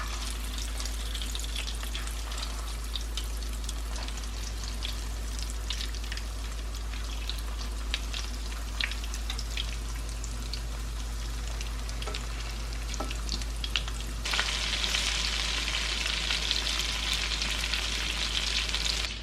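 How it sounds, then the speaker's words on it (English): Chicken pieces fry in a hot pan, giving a steady, close sizzle and crackle that runs without a break throughout, with a brighter, hissier surge near the end. "Then I'm gonna add in the chicken. I'm gonna let it cook about 4 minutes on each side."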